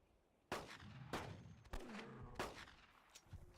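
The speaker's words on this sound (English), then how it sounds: "I went for a lung shot instead." Rifle shots ring out at a Ceratosaurus in a dinosaur hunting game: four sharp, loud cracks spaced roughly half a second to a second apart, each with a short echoing tail, then a fainter pop.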